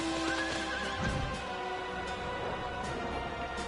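A flaming horse mount in Final Fantasy XIV gives a loud, near whinny, with clip-clopping hooves and ambient game sounds underneath.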